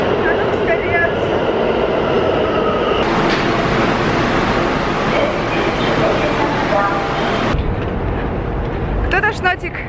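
A subway train arrives at a metro station with a loud, continuous rumble and roar that rises partway through and then cuts back, with brief squeals near the end.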